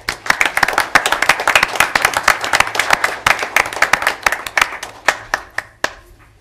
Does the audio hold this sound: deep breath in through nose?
no